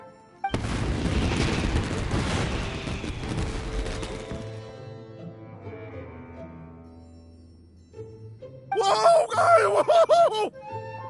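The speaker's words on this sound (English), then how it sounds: "Yoimiya, this is turning into a bit of a fireworks display." Fireworks burst in the video game Genshin Impact, a loud booming blast that crackles and rumbles for several seconds before fading into a low lingering drone, followed by a voice.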